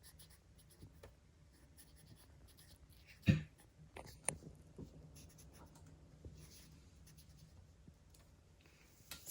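Pen handwriting a short message inside a handmade Mother's Day card, a quiet scratchy scribble with a couple of sharper taps and strokes, close and alone with no talk.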